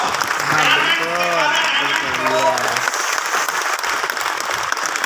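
Sustained applause from an audience at an award ceremony in a New Delhi auditorium, steady dense clapping throughout, with a voice talking over it in the first few seconds.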